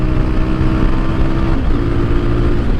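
A Voge 250RR motorcycle engine with its exhaust removed roars up close, a loud, rough, steady drone with a throaty low rumble and no pauses.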